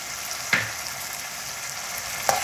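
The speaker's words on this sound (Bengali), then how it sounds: "রসুনটা একটু ভাজা ভাজা হবে।" Garlic frying in oil in a pan gives a steady close sizzle, broken by two sharp clicks of a utensil against the pan.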